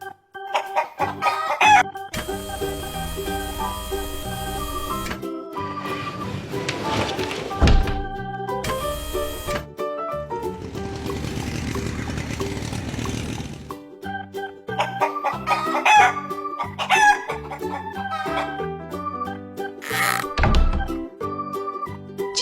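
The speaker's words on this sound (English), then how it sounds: "Chicken." A cartoon chicken on a farm crows and clucks in bursts, mixed with thunks and other animation sound effects, fairly loud and continuous.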